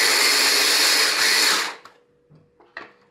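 A food processor pulses to chop vegetables into a seasoning mix. It gives one loud, close whirring burst that lasts under two seconds, then cuts out and leaves a few faint clicks and clatters.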